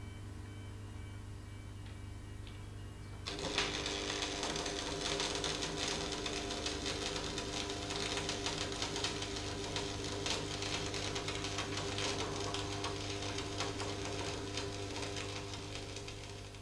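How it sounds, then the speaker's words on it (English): Arc welding with an electrode laid at 45 degrees on 6mm steel: after a low electrical hum, the arc strikes and a dense, steady crackling buzz runs on without a break. "leave it on the bench with the electrode at 45 degrees, otherwise weld it as before"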